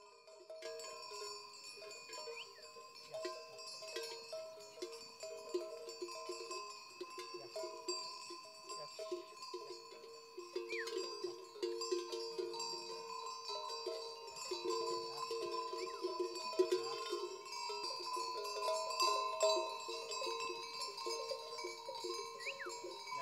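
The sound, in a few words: sheep and goats wearing bells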